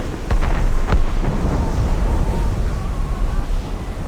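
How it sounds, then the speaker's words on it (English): Cannon fire booms deep within the fog in the video game Assassin's Creed Rogue, two sharp distant blasts early on followed by a long rolling rumble that fades slowly. "Cannon fire. Deep within the fog."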